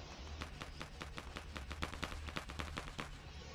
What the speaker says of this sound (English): Okay, multiple shots.